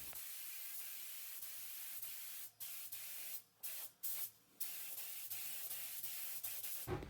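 A spray gun dusts primer surfacer over pinholes on a panel in long, steady hissing passes, briefly cut by a few short pauses in the trigger before the spraying resumes, with no voices.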